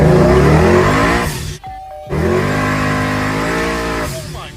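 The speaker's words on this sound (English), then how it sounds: "powered by a Pro-Charged 427 LS engine" A supercharged 427 LS V8 in a Chevy II Nova revs hard and loud, drops briefly near silence during a gear change, then roars again with a rising supercharger whine.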